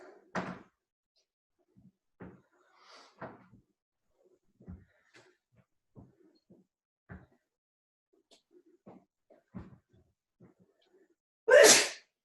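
A single loud, sharp sneeze bursts out near the end, following a stretch of quiet scattered thumps and soft shuffling movements.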